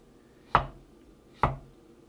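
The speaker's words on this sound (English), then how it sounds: "Well, we first need to make carrot slices." A knife cuts through a carrot into slices on a board, two crisp, separate chops about a second apart, close and clear against near silence.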